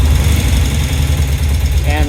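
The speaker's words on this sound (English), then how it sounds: "let's go ahead and fire it up" A 1972 BMW R75/5 airhead motorcycle engine idles steadily and loudly up close, a continuous low throb with a voice faintly over it.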